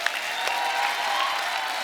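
Studio audience on an Indian TV comedy show, The Kapil Sharma Show, breaking into loud applause, a dense continuous patter of many hands clapping with faint crowd cheering mixed in, close and unbroken.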